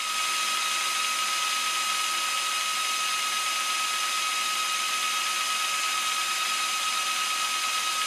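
Metal lathe facing a part to length on a finish cut, a steady high-pitched whine with a constant tone, continuous and unbroken throughout.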